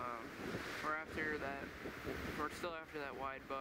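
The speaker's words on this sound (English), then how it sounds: "Sorry for the wind in advance, it's really windy today." Heavy wind buffets the microphone in a steady roar while someone speaks over it close by, outdoors near a cedar tree while bow hunting deer in Wisconsin.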